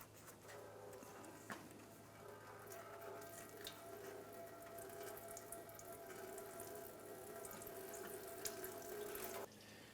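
Coolant drains from the radiator of a 2006–2013 Chevrolet Impala in a steady, faint trickling stream of liquid that runs continuously for several seconds, with a few soft clicks and no talk.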